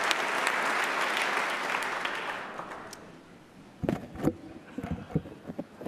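A large audience at a governor's inaugural address claps in a dense, sustained wash that fades out over about three seconds. A few scattered knocks and thumps follow in the quiet hall.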